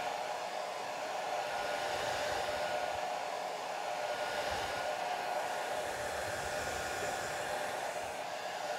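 A hair dryer blows over wet watercolor paint, a steady loud whooshing hum with an airy whine that stays constant and close throughout, no voices.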